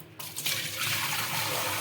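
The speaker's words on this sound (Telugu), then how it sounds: "వాటర్ని పంపేసుకుందామండి" Dirty water is poured out of an aluminium kadai, a steady rushing splash that starts abruptly and continues evenly, close by.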